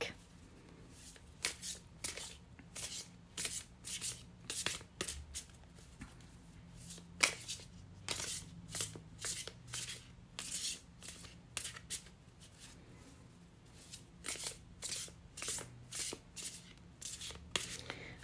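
Tarot cards riffled and shuffled by hand in rapid bursts of crisp flicking and rubbing, close and fairly quiet, repeating steadily over a low background hum.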